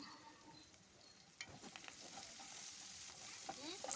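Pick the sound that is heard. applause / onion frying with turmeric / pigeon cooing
onion frying with turmeric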